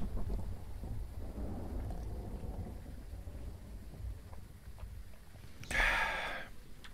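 Thunderstorm in the horror game Phasmophobia: a low, steady rumble of storm and rain fills the clip, with a sudden bright crack of thunder bursting in near the end.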